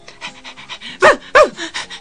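A German Shepherd dog pants loudly and close, quick rhythmic breaths with two heavier gasping pulls in the middle, with no other sound around it.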